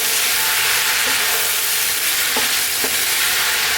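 Spices (chili, cumin, coriander and turmeric) are stirred into a vegetable curry in a pan. A steady sizzle runs throughout, with a few soft scraping strokes of the spoon and no talking.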